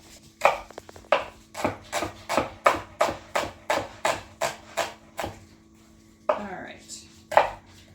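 A knife chops shallot on a cutting board in a quick, regular series of about a dozen crisp close knocks, a short pause, then a few more.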